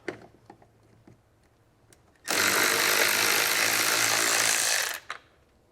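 A power driver spins out two 10mm screws holding the taillight of a 2024 Hyundai, one loud continuous whirring burst of about three seconds, up close, with faint handling clicks before and after.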